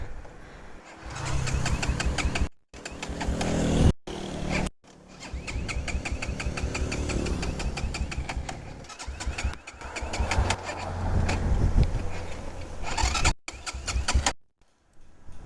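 A faulty motorcycle on a hill sputters through repeated start attempts, its engine catching, revving unevenly and cutting out several times, loud and close, with birds faintly behind.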